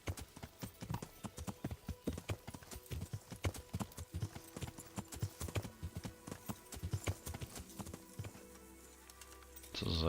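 A horse in Kingdom Come: Deliverance trots with steady, evenly spaced hoof clops that continue for nearly the whole stretch before easing off at the end, with no voices over them.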